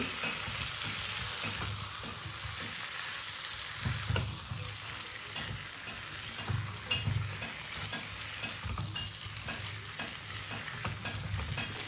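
Potatoes for a kasundi aloo dum being fried and stirred in spiced masala, a steady close sizzle broken by repeated scraping and stirring knocks of a spoon in the pan.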